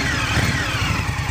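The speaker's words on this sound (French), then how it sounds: "premier tour de moteur de ma bécane" A new motorcycle engine running at its first start, a steady low throbbing idle with a faint rev swell, close and fairly loud, heard alone for just over a second.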